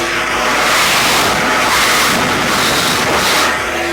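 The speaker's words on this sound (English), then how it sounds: "if I like put the mic by the suction, you'll be able to hear it." An Oneida Dust Deputy 2.5 Deluxe dust collector pulls suction with a loud, steady broadband rushing roar, mic held right at the intake, without speech.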